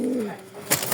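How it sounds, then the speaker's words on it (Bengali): A pair of racing pigeons, breeding birds, cooing close by in a brief, soft, low warbling coo followed by faint rustling. "এই দেখেন কবুতর দুইটা কি খুমা ব্রিডিং কবুতর।"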